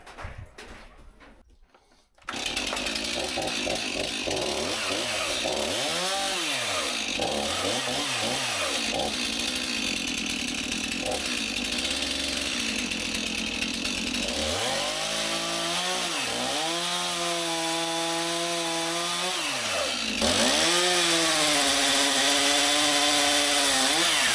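A chainsaw with an overtightened chain starts up after a short pause and runs steadily and loudly, its engine pitch rising and dipping with throttle changes, then grows louder near the end.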